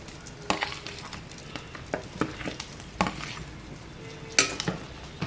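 Fried pointed gourd pieces are stirred into a simmering curry in a pan, with soft bubbling under a series of sharp clinks and scrapes from the spoon at irregular intervals, no voices.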